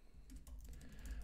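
Faint, rapid clicking of keys being typed on a computer keyboard, quiet and close, with no talking.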